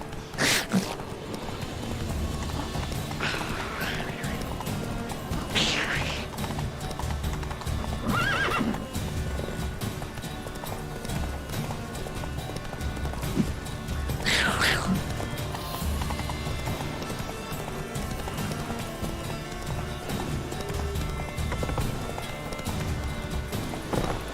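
A horse in the video game The Witcher 3 clip-clops steadily at a run, with several loud whinnies and neighs breaking over the hoofbeats, and a voice speaks briefly.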